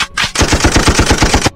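Rapid machine-gun fire from an animated film, a loud, evenly spaced burst of about a dozen quick shots that begins after a short opening blast and a brief gap, with no voices.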